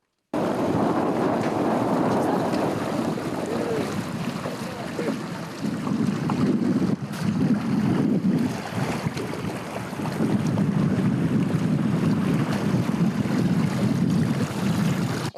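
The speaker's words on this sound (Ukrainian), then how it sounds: "Разом з водною поліцією найсміливіші вирушили у рейд Дніпро." A water police boat cruises on the Dnipro river, its motor rumbling steadily with rushing water and heavy wind buffeting the microphone throughout; faint voices are buried in the noise.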